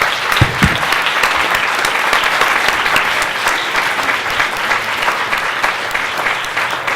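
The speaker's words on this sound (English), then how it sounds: "Please give a round of applause for our panel." Audience applause for a conference panel fills the room, steady and dense clapping from a large crowd with a brief cheer near the start, holding at full strength throughout.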